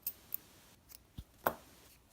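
Scissors cut crochet yarn, a few quiet separate snips and clicks close by in a short quiet moment.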